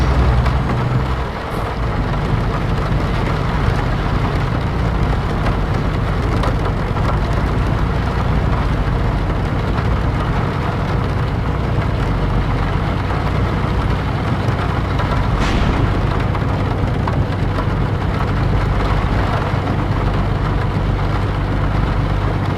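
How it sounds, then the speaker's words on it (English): Steady, dense rain roars continuously throughout, a heavy broadband wash with no voices, close and unbroken. "This is a heavy rain too."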